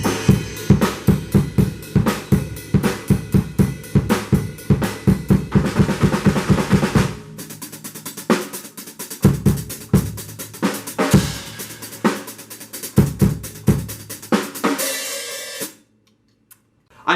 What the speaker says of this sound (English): Last is the drum part that sounds like this.